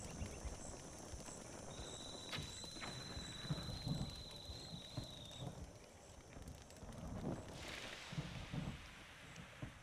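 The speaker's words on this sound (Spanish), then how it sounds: "Se pone a llover." Rain and rolling thunder from the Zelda Breath of the Wild video game world, a steady wash of rain with low rumbles and a few sharp cracks, plus a thin high tone in the middle, no talking.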